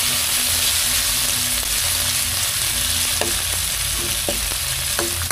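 Meat stirred with sautéed aromatics in a pan for a sponge gourd dish, a continuous close sizzle with a few sharp scraping clicks of the utensil toward the end.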